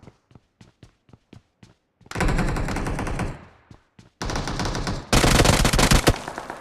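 Gunfire in the mobile battle royale game BGMI: a string of short single shots, then loud sustained automatic bursts with a brief pause between them, close and alone with no talk.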